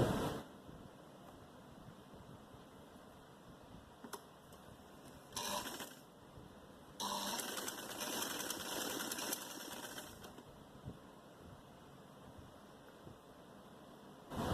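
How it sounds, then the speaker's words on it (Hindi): A sewing machine stitches a folded sleeve in short bursts, a quiet whirring run followed by a longer sustained stretch, nearby with faint background hum between bursts. "तो हम यहाँ से सिलाई लगाना शुरू करेंगे, इसको इस तरीके से फोल्ड करके।"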